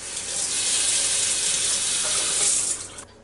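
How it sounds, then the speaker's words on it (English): Tap water runs steadily into a kitchen sink while a cooking pot is rinsed, a loud continuous hiss and splash close to the microphone that tapers off at the end. "I'm going to set this in the sink also because I'm going to clean it up just a little bit"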